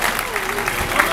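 Spectators at a beach volleyball tournament in Basel applaud after a qualifying match, a continuous spread of clapping from a crowd with a voice faintly audible over it.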